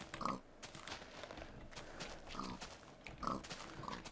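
Pigs in the Minecraft video game give a few short, nasal oinks and grunts at irregular intervals, fairly close and moderately loud, with no talking over them.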